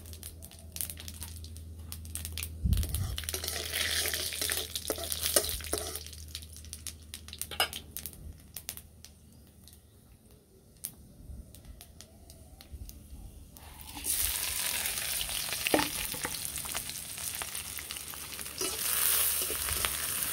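Panch phoron spices with dried red chillies and bay leaves crackle and fry in hot oil for a Bengali vegetarian dish, a steady crinkly sizzle with scattered pops and stirring scrapes, growing brighter and louder toward the end.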